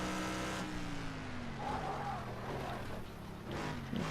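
A race car in a racing video game brakes hard, its engine note sliding downward with faint tire squeal, loud and continuous throughout.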